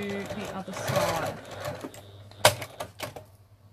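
A sewing machine stitches down a pleat on a double-layer cotton face mask, a steady mechanical whir in close bursts with a sharp clack near the end. Someone talks throughout.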